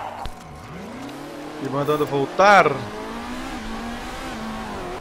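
A race car in the MotorSport Manager game accelerates with a rising engine whine, building to a loud revving burst midway before fading, while someone talks briefly.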